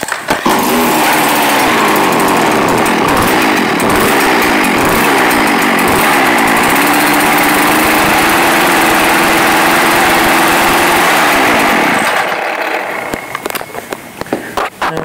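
A Stihl BR550 two-stroke backpack blower runs loud and close, its steady buzzing roar held for about twelve seconds before it drops off and sputters down.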